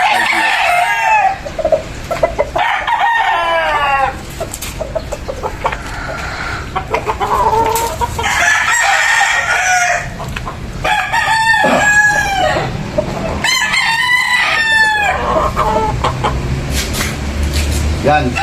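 Roosters crow repeatedly and hens cluck at a poultry expo, loud and close, with several overlapping calls and a busy crowd murmur underneath.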